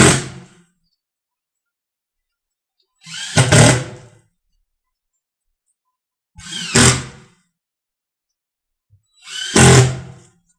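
Four short, sharp bursts from a power tool fastening Granite Ridge roof shingles, evenly spaced about three seconds apart with silence between, close and loud.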